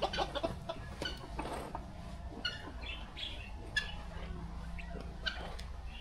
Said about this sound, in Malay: Dia ada ayam kat situ.